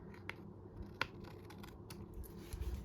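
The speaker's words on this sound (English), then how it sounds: "then we just cut the excess off with our favorite scissors" Favorite scissors trimming excess card stock on a crafting mat: a few crisp, close snips spaced apart in an otherwise quiet room.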